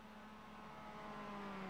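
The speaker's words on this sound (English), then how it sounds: "Sounded like a car was coming out of the pits then." A race car rises slowly in pitch as it leaves the pits in a racing simulation with MX-5s and Spec Racer Fords, a faint steady engine hum building slightly, alone without speech.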